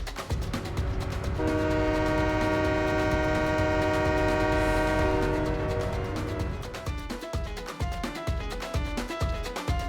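Train in the Farming Simulator 17 video game sounds a long, loud multi-tone horn blast over a rumbling engine, then rhythmic clacking and thumping of wheels on rail joints as it rolls on; no talking.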